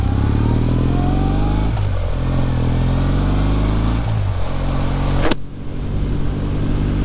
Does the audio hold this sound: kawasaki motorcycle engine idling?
yes